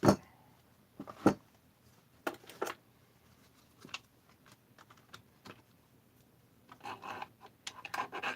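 Starter housing being fitted onto a Husqvarna 262XP chainsaw during final assembly: sparse plastic clicks, rasps and rubbing knocks, a few sharp taps early, then a busier scraping patch near the end, close and alone.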